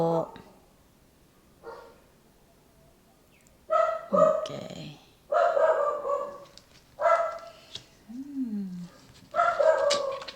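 A dog barks several times nearby in short bursts, with a brief whine between, while a person speaks briefly.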